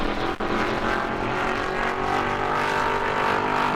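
A super stock race car engine roars steadily at close range during qualifying at New Smyrna, a loud continuous drone with a brief dip early on before holding full power to the end.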